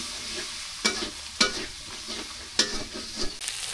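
Dried fish sautéed in a pan, a continuous low sizzle broken by a few sharp scraping stirs of a spatula at irregular moments, close and alone without talk.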